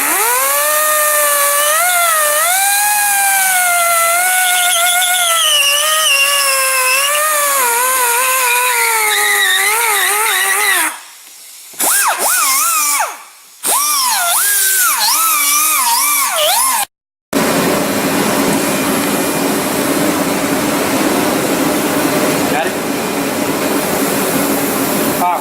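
A small Velcro-pad power sander with 80 grit cleans welds along the edge of a truck bumper, first as a steady high whine with shifting pitch, then after brief cutoffs as a rougher, louder grinding against the metal, close up.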